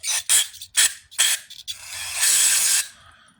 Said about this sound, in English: let's spray some cob cleaner in this hole here